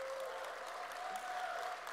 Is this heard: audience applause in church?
yes